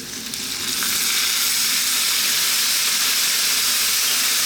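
Fish sauce hits a hot pan while cooking Chinese sweet and spicy fish, a loud, steady sizzle that swells in the first second and then holds as an even, close hiss.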